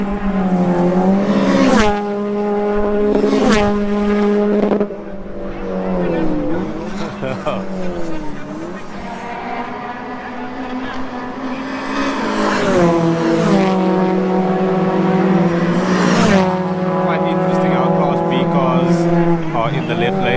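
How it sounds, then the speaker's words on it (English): Class A race cars howl around a track, several engines revving up and down through gear changes with rising and falling pitch, loud and close, and a voice talks over them at times. "Class A cars sound great."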